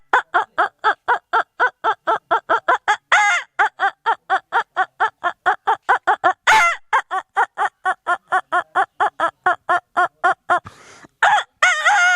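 A person imitates a rooster's crow in a long string of rapid, repeated calls, with a brief break of louder noise partway through.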